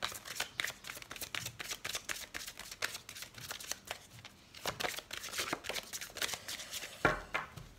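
Oracle cards are shuffled by hand close-up in rapid bursts of crisp riffling and flicking, one long run followed by a brief pause and then another flurry.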